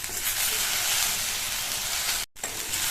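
Chopped okra sautés in a hot pan with a steady, loud sizzling hiss that cuts out for a split second before resuming.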